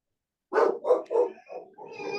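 A dog barks in a rapid volley of three loud, close barks, followed by softer trailing yelps as it reacts to someone knocking at the front door.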